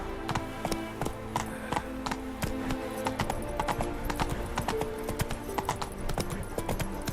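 Rhythmic clip-clopping of the horse Roach's hooves in The Witcher 3, a steady, brisk, close trot that runs without a break under faint background game sound.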